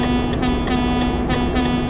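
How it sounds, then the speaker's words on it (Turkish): A truck air horn in Euro Truck Simulator 2 blares as a loud, steady, sustained tone for about two seconds during a race between a Renault T-520 and a Mercedes-Benz Actros. "Korna falan da çaldık."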